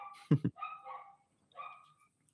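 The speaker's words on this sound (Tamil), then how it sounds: "பின்னாடி வேற நாய் கத்திக்கிட்டே இருக்குது அடக்கவே மாட்டேங்கிறாங்க" A dog barks in the background, two quick loud yelps followed by softer whimpering, whining sounds, with no talking.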